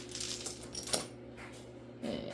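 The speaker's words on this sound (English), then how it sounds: "that quarter landed smack dab on my toe" A quarter drops onto a hard surface, giving a sharp metallic clink with a brief ringing tail near the middle, close and fairly quiet, followed by a second lighter rattle.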